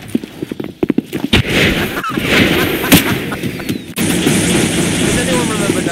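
Rapid gunfire bursts crackle through a Half-Life mod, Forget Mesa, with sharp irregular shots early and dense sustained firing later, loud and close, while a player's voice talks over parts of the action.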